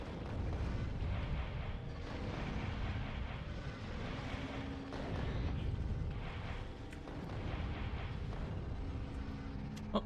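Rockets bursting in the factory-building game Factorio, a dense, continuous rumble of overlapping blasts and booms that swell and fade in waves throughout, with no talking.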